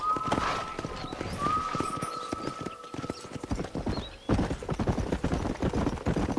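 Horse hooves clip-clop at a steady gallop in the Xbox 360 game Red Dead Redemption, loud and close, with a brief whinny early on and a tonal whistle-like line in the background.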